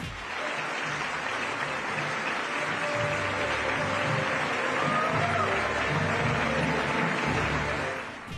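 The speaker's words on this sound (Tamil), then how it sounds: "அங்கிருந்த அனைவரும் எழுந்து நின்று கைத்தட்டினர்" An audience at the opening of a Hindu temple in Abu Dhabi stands and claps in sustained, dense applause that holds steady for the whole stretch, with a faint crowd murmur beneath.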